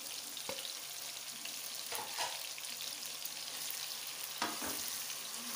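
Onions frying with softened tomatoes in a pan, a steady low sizzle with a few sharp scrape-and-clink stirring strokes, close and fairly quiet, with no talk.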